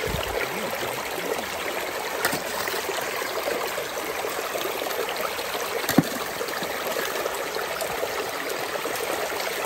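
Water runs steadily through a gold sluice box, a constant close rushing and trickling wash with a couple of faint knocks, no voices.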